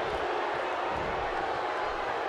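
Steady roar of an arena crowd cheering in the wrestling video game WWE 2K17, a dense unbroken wash of noise with no distinct peaks throughout.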